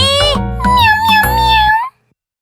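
A voice imitates a cat, meowing several times in a quick, sing-song run, loud and close, stopping abruptly near the end.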